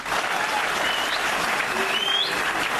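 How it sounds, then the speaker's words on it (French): An audience at a Congolese opposition convention applauds the island's president, with a steady, dense, fairly loud wash of clapping held throughout. "On applaudit pour le président de l'île."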